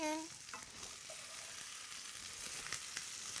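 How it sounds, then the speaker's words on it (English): Fresh sage and rosemary fry in a pan for an Italian Thanksgiving turkey, making a quiet, even sizzle with light stirring scrapes and a brief tone at the start. "Fry it in."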